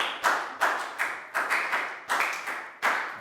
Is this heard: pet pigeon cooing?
no